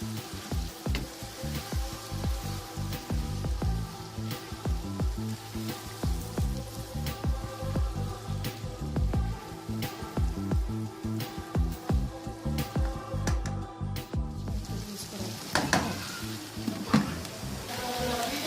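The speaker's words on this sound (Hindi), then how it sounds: "अब हम इसमें शामिल करेंगे गाजर कटी हुई, इसको मिक्स कर लेंगे।" Chopped carrots stir-fried with chicken for vegetable fried rice sizzle steadily in a hot pan, with scattered clicks and scrapes of stirring throughout, moderately faint and fairly close.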